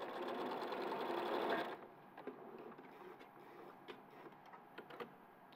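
Sewing machine running fast as it top stitches a gap shut, loud and continuous for under two seconds, then stopping to a quiet room with soft clicks and handling taps.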